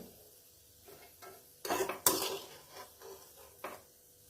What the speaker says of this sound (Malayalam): അപ്പം ഞാനിത് ചട്ടിയിൽ നിന്ന് കോരി മാറ്റുവാണേ